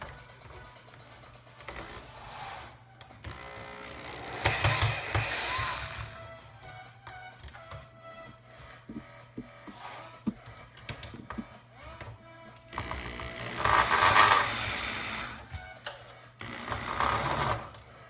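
Small screws being backed out of the orange plastic reflector inside a disassembled Hyundai Veloster headlight, heard as bursts of whirring driver noise with quieter mechanical fiddling in between, close and fairly loud.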